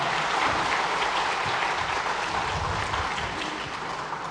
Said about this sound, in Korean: 박수하도록 하겠습니다.